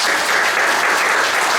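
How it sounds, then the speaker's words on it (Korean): A church congregation at a Sunday service claps to welcome first-time visitors, a dense, even roar of many hands that holds loud and steady throughout. "우리 환영과 축복의 박수 부탁드립니다."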